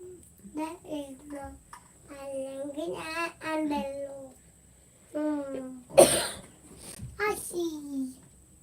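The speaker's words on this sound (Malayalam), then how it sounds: "ചുമ" Someone talks in short phrases, then gives a single sharp cough near the end, close and fairly clear, before speaking again.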